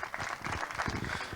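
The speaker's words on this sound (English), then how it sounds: "Can we have a round of applause, please, for all of our top three once again?" A short burst of audience clapping at a Kartmasters 2023 kart race podium, dense and fairly faint, as spectators applaud the top three finishers.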